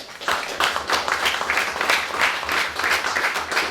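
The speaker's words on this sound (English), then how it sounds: "Round of applause for Phil from BOMA." Audience applause for a guest speaker at a Building Owners and Managers Association talk, dense continuous clapping from a room of people, loud and sustained throughout with no speech over it.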